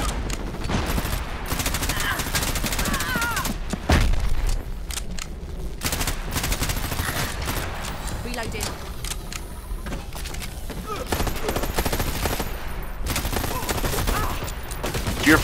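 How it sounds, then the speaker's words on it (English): Sustained video game gunfire: dense, nonstop machine-gun fusillades and single shots, loud and close, with occasional louder impacts and a voice commenting over the shooting. "You see all those bullets heading to you?"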